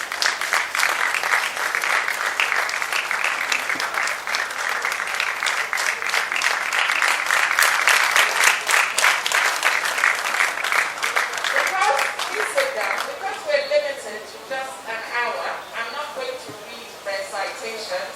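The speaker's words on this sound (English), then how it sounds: "just clap for them" Audience at a school business event claps steadily for honourees who have stood up, a dense, sustained round of applause that thins out toward the end.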